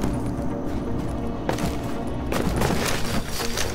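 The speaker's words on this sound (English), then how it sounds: "cool guys don't look at explosions." Explosions and gunfire-like bursts in the game Don't Starve Together, a sustained crackling barrage with a few louder booms, heard over game ambience with no talking.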